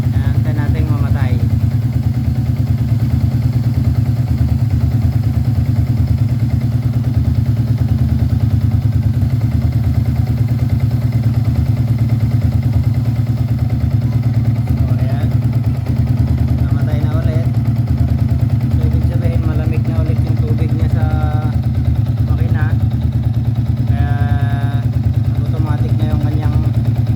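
A motorcycle engine idles steadily after a water pump repair kit replacement, a loud continuous running note with light mechanical clatter, while someone talks over it.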